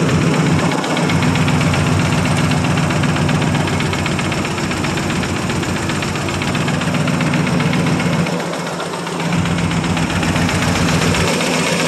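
A 1959 Buick Electra's 401 Nailhead V8 runs loud and steady for about twelve seconds, a dense rumbling drone with a slight knocking pulse and a brief dip in level near the end, no voices over it.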